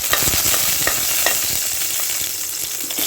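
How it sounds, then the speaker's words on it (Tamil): Cashews and raisins fry in a tablespoon of ghee with two cardamom pods in a kadai, a steady bright sizzle broken by frequent scraping stirs and clicks of a spoon against the pan. "ஒரு கடாயில் 1 டேபிள் ஸ்பூன் நெய் விட்டு முந்திரி திராட்சைலாம் வறுத்துக்கோங்க"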